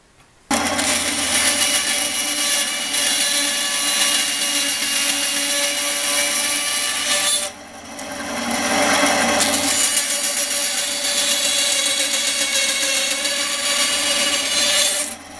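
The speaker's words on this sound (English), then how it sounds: "so I'm gonna use the bandsaw" A bandsaw cuts a bridle joint into a long wooden spear shaft, giving a loud, continuous rasping whine that dips briefly midway as the cut pauses before resuming at full strength.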